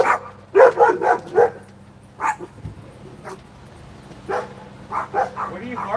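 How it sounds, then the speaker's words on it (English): A dog barks in short clusters of sharp, close barks with quiet gaps between them and a low hum underneath, while people talk nearby. "What are you barking at?"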